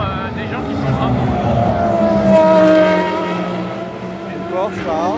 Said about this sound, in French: Une Porsche là.